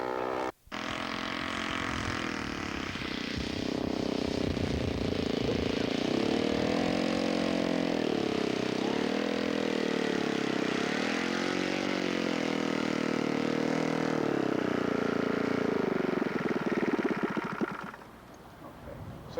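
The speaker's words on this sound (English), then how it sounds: "Okay, final landing, first flight." A scale model propeller aircraft lands on its first flight, its engine droning steadily for most of the stretch with a wavering pitch before cutting off near the end, fairly quiet and at some distance.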